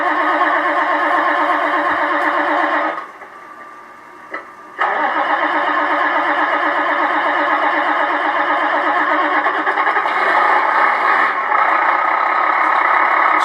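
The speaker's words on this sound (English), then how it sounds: "And then we've got our engine start." An electronic Beier SFR-1 sound module inside a Tamiya 1/14 Globe Liner RC truck plays a truck engine start, cranking up into a steady loud idle, with a short drop in level partway before the running note returns.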